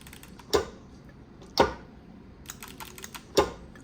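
Foot pedals from a Time Crisis arcade-style setup, mapped to a keyboard key, give three sharp, loud mechanical clicks at uneven intervals, with a few fainter ticks between them.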